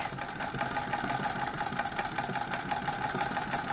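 A sewing machine runs continuously at a steady pace on a craft project, giving a close, even mechanical whir and rhythmic clatter with no pauses or talking.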